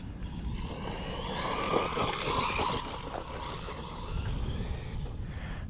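Rlaarlo 1/14 scale 3S brushless RC truck driving through deep grass, a continuous whirring electric motor whine rising and falling over a rough rustling rumble, moderately close.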